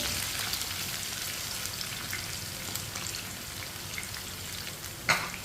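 Chopped ridge gourd (turai) frying in a pan for sabzi: a dense, even sizzle of hot oil, close and continuous, with a single sharp clink of a utensil near the end.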